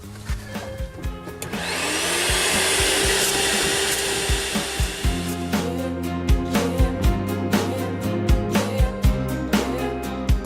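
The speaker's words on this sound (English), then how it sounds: "the inbuilt Hoover keeps everything shipshape on board" A built-in Hoover vacuum cleaner runs steadily in a DAF truck sleeper cab, with a broad continuous hiss and whine under musical backing and rhythmic thumps, starting after a short lead-in and continuing to the end.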